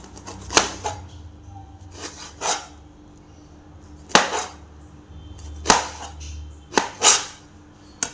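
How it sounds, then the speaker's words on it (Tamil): A knife works through raw jackfruit in a series of separate rasping strokes, some single and some paired, close and fairly loud against a quiet background. "இப்படி ரவுண்டு சுத்தமாக கட் பண்ணுறேங்க."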